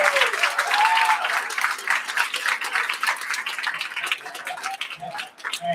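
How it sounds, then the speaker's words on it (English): Audience applause for the USA team at a children's literature quiz world final in Paihia, New Zealand, a steady wash of clapping with cheering and high squeals, fading somewhat toward the end. "Let's give USA a big round of applause."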